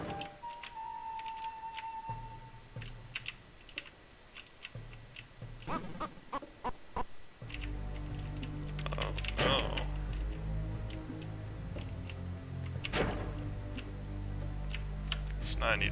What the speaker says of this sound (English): I'm typing up the GameFAQs walkthrough as we speak.